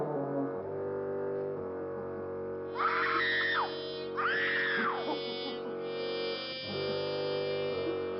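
Strange screaming attributed to a banana in a Land of the Giants TV episode: two loud, rising-and-falling wailing shrieks over a steady low droning hum, with no speech.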